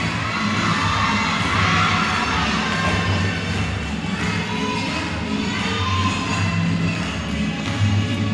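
Spectators in the stands at a Romanian gymnastics competition keep up continuous applause and cheering, a dense, steady crowd roar from start to finish.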